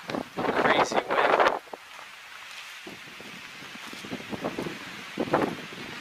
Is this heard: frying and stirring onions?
no